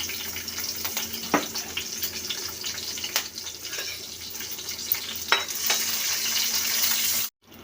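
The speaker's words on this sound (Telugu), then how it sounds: "నెక్స్ట్ ఆయిల్ హీట్ అయ్యాక ఇందులోనే ఒక 10 పచ్చిమిర్చి వేసుకుందాం." Ten green chillies fry in hot oil in a pan for fish curry, a steady close sizzle and crackle with occasional sharp pops and stirring clicks.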